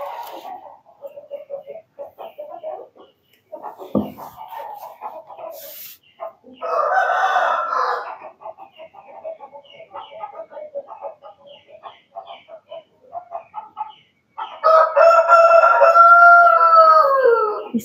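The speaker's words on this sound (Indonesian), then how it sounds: "ada suara ayam di luar" A rooster crows loudly twice, long drawn-out calls, with scattered clucking and softer bird sounds in between.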